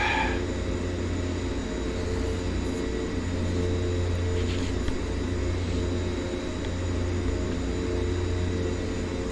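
Twin turboprop engines of a DHC-6 Twin Otter in X-Plane 11 drone steadily with a continuous low hum and faint higher whine, holding an even, sustained level throughout with no voices.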